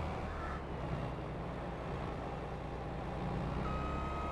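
A farm vehicle in Farming Simulator 22 drives in reverse as a steady engine rumbles and a quiet, high reversing beep repeats near the end, with faint crow caws in the background.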